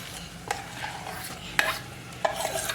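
Brinjal oro mixture stirred in a frying pan, with a low sizzle beneath it and several distinct scraping and clinking strokes from the spoon.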